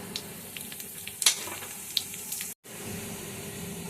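Dry red chilli and panch phoron crackle and sizzle in a little hot mustard oil, a steady close frying hiss with small pops and a brief clatter of a spoon.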